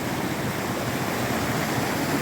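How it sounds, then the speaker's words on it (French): Steady, dense roar of falling water from the Cascade de la Faille, loud and continuous with no breaks, heard alone without any voices. "Voilà la cascade de la Faille."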